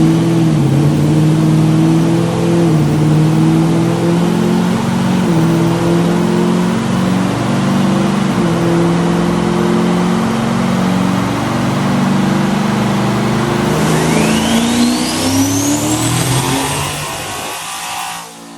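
Single-turbo diesel work truck making a loud, sustained dyno pull, the engine holding a steady heavy drone before the revs climb with a rising turbo whistle near the end, then easing off.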